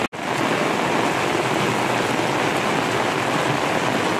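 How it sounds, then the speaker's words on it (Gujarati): Heavy monsoon rain pours down steadily and loudly after a brief click at the start, a dense unbroken roar with no voices. "વરસાદ ભાઈ ફૂલ એટલે ફૂલ ચાલુ હોય"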